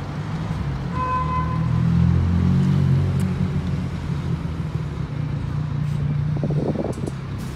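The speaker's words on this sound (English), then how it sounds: "we've got another bus going out" A bus pulls out of Paignton bus station, its diesel engine a low, steady drone that swells and then settles, heard from nearby over a general station hum.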